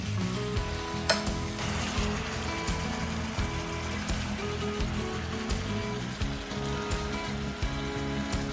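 Steak browns on a Stoke Voltaics Nomad portable electric cooker, giving a steady close sizzle and crackle with occasional stirring scrapes and no voices.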